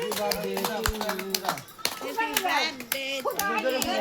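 Hands clap in uneven bursts at a child's birthday gathering right after the Happy Birthday song, with children and adults talking and calling out over the clapping.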